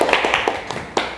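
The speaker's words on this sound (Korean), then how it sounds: "오늘 장시간 수고해 주신 이성목 대표님께 박수 드리면서 공식적인 인터뷰 마치도록 하겠습니다." A small group claps at the close of an indoor interview, with a brief, sparse patter of hands lasting about a second and fading quickly.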